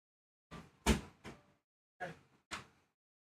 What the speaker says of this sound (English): just knocking off the doors because I think it's getting a bit windy